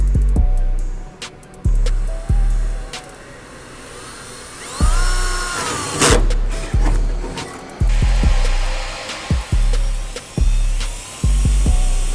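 A power drill bores holes for roll cage bolts in a car, whining in repeated bursts that start and stop at a steady working rhythm, with a rising pitch as the bit pushes through, loud and close.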